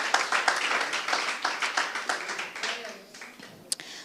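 A church congregation applauds during an evening service, a brisk wash of many hands clapping that fades out over a few seconds, ending with a couple of sharp isolated taps.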